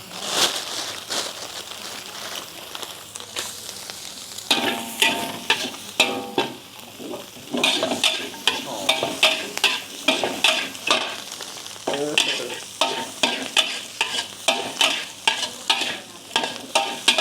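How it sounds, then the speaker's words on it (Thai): Fried rice with egg stir-fried in a pan until dry, in an old-style Thai street cooking setting: steady sizzling with repeated scraping and tossing strokes of the spatula, close and loud, no talk. "เราผัดจนแห้งนะคะ"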